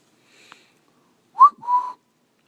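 A person whistling outdoors in a snowy blizzard: a faint short tone, then two clear whistled notes, the first rising sharply and the second held, in near silence.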